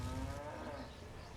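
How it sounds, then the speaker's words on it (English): A zombie cow in the video game Lollipop Chainsaw gives one deep, drawn-out moo that fills the short moment and fades slightly toward the end, with no talking over it. "That is a zombie cow."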